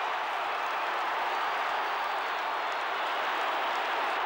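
A large Australian football crowd roars continuously at a 1990 Collingwood match, a dense, steady wall of cheering and clapping heard from within the stadium.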